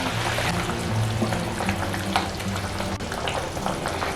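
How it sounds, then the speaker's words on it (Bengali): Fried green plantain fritters being stirred into simmering curry gravy in a pan, a continuous wet bubbling sizzle with soft scraping and sloshing of the spoon, close and steady, no voices. "এখন আমি যে বড়াগুলোর মতন ভেজে রেখেছি সেগুলো ঝোলের মধ্যে দিয়ে দিচ্ছি। এবার ঝোলের সঙ্গে খুব ভালো করে মিশিয়ে নিতে হবে।"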